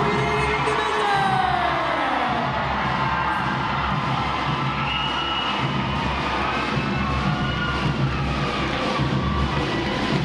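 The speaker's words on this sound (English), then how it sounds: "welcoming the graduating divisions with your applause" A large crowd in a ceremonial drill hall cheers and applauds steadily as graduating U.S. Navy recruit divisions enter, a continuous roar of clapping and shouts.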